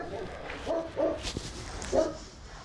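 Several caged guard dogs bark in short bursts, three or four loud woofs spaced over a few seconds, with faint background noise between them.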